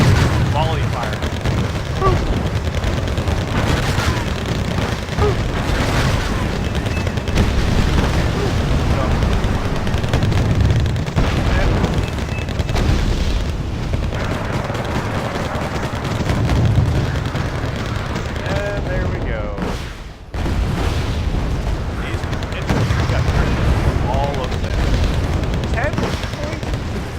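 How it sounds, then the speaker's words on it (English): Battle in a war strategy video game, with T-80U tanks and infantry under volley fire: sustained dense gunfire and rumbling explosions throughout, with a brief lull near the end, while someone talks over it. "Volley fire."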